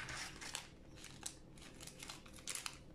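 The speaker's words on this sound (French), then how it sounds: "Prends les ciseaux." Scissors snip several times, faint and close, through a plastic sachet of green crystal-growing powder, with soft crinkling between the cuts.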